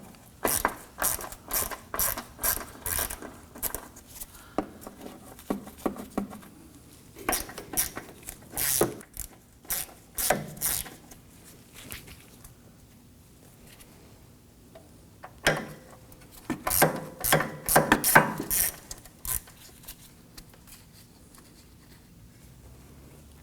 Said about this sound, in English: We're going to use our 10mm socket to go ahead, loosen, and remove the 3 inboard nuts holding this.